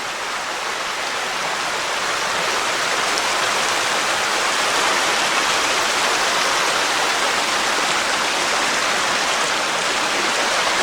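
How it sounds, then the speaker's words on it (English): A stream called Tom's Run flows steadily along a loop hike on the Appalachian Trail, a dense, continuous rush of water that stays close and even in loudness throughout, with no voices over it. "I believe this is Tom's Run stream."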